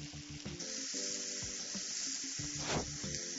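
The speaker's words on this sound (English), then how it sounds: "you want a super hot heat because you're just going to sear this" Steak seasoned with oregano sears in a very hot pan, giving a loud, steady sizzle with crackling spits that runs throughout, close and unbroken, with no talking.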